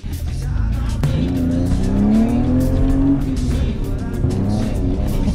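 A BMW E36 with a welded differential drifting, engine revving hard under a long rising tire squeal that stretches through the middle, loud and close, with voices faintly under it.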